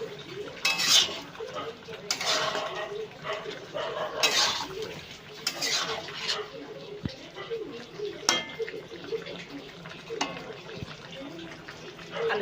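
Metal pots and utensils clatter and clink in a kitchen while shukto is cooked, a lid being lifted off the pot among several sharp knocks and scrapes over soft background sounds.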